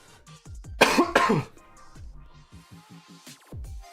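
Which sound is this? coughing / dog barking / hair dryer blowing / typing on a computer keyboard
coughing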